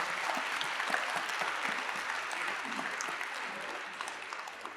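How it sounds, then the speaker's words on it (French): Sustained audience applause at a French professional conference honoring the organizing team, an even, continuous patter of many hands heard throughout the room with a faint murmur beneath. "Un grand ovation, applaudissements pour l'équipe qui nous accueille au niveau organisationnel."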